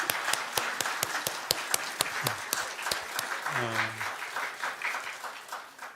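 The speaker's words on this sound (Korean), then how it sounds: "우리 성가대원 모든 분들 다시 한번 크게 한번 박수 하시겠습니다." Church congregation applauding the choir with sharp, evenly spaced claps at first, swelling into a dense burst of applause with a few voices calling out underneath, then tapering off.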